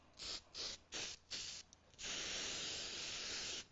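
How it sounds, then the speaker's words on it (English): Acrylic paint sprayed from an aerosol can onto jewelry leftovers: four short hissing bursts, then one long steady spray lasting nearly two seconds, close and clear with no talk. "I'm going to spray my acrylics"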